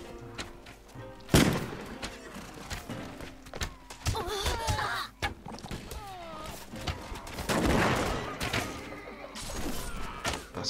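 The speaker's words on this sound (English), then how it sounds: "Let's do some of our own shooting." A gunfire volley in a Mount & Blade: Warband battle, scattered sharp cracks and thuds mixed with clashing, shattering impacts and crowd din, loud and dense across the whole stretch.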